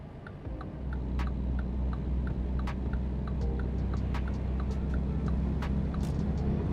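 A steady low truck engine rumble drones throughout in the American Truck Simulator video game, with a light regular ticking, like an indicator, clicking over it.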